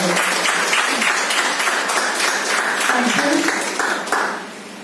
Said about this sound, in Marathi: सगळ्यांसाठी स्वतःसाठी आपल्यासाठी टाळ्या व्हाव्यात अशी इच्छा आहे